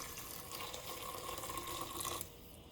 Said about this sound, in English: we're going to pour some boiling water into here